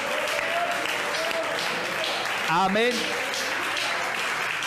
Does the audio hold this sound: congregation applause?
yes